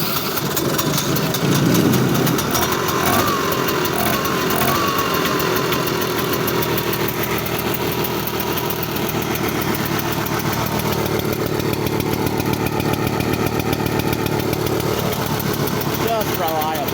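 A 1966 Ski-Doo Olympic snowmobile engine runs loud and close just after a cold start, a steady buzzing two-stroke idle that holds without a break while someone talks over it.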